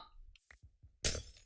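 Glass blocks break in the Minecraft video game: a few faint soft taps, then one sudden, brief, bright shattering crunch near the end.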